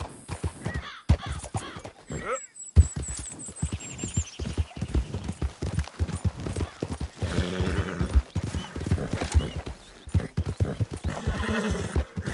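Horse hooves clip-clopping in Red Dead Redemption II, a steady rhythmic trot close by with a horse whinnying, under a brief gap and game ambience.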